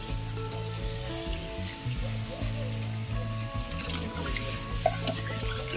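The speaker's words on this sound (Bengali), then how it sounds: "আমি এবার জল দিয়ে দেবো।" Potatoes fry with a steady sizzle in a pan as water is added, with stirring scrapes and occasional utensil clinks, close and continuous, no talking.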